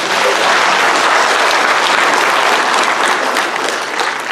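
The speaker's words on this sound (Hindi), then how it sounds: "तालियां बजाइए" Loud, continuous applause from a large crowd, dense clapping sustained throughout without letting up.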